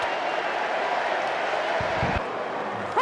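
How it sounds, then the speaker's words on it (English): A baseball crowd at Dodger Stadium during a Dodgers versus Padres game, a steady broad roar of many voices that holds at an even level throughout, with brief low thumps near the end. "The crowd reaction is almost like a football crowd."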